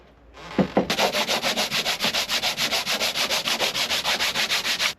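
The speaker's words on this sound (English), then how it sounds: "Now I will sand this piece with the same sandpaper like I use for this." Sandpaper rubbed by hand over a small wooden piece, a quick steady run of rhythmic back-and-forth strokes, close and clear with no talk.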